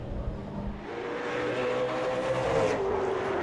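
Race cars brake for Beacon corner in a regional racing round, engines heard from a distance as the pitch drops and the sound swells and fades across a few seconds.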